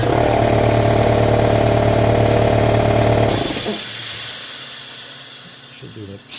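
An air compressor roars loudly with a steady engine-like drone, then shuts off and lets out a long hissing vent of air and moisture that slowly fades.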